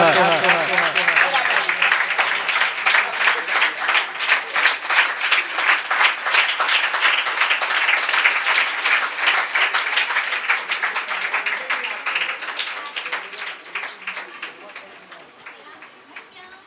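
Sustained audience applause for a student's handmade greeting card at a school Teacher's Appreciation Day celebration, many hands clapping in a fast rhythmic patter that holds steady, then tapers off, with voices talking at the start.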